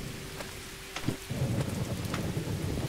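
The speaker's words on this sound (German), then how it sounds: "Es ist hier echt am Donnern, ne?" A thunderstorm in the Derail Valley train simulator, with steady heavy rain and deep rolling thunder that swells and rumbles on throughout, loud and enveloping with no voices.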